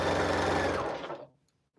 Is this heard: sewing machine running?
yes